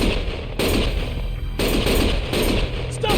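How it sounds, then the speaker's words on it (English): Sustained bursts of automatic gunfire during a firefight in the action game Lost Judgment, loud and close, with rapid rattling volleys separated by brief pauses. "Stop shooting!"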